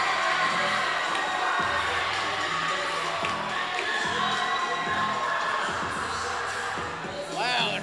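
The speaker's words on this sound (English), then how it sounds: "the crowd's going wild for Baby Lotion" A wrestling crowd at an event in Mount Airy, North Carolina, cheers and shouts wildly as a wrestler heads out among the fans: a dense, continuous roar with whoops, children's shouts and scattered claps from start to finish.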